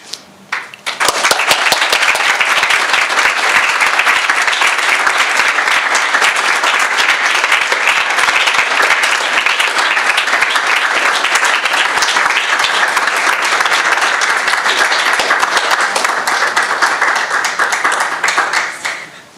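Conference audience in a lecture room breaking into dense, sustained applause, loud and even for roughly eighteen seconds before tapering off at the end.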